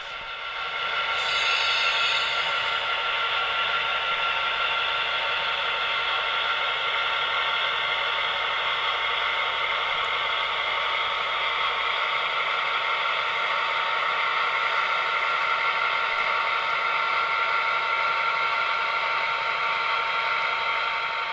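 A steady, continuous mechanical whine with a hissing rush runs evenly throughout, close and moderately loud, with no voices, from an HO scale GP7 model train locomotive.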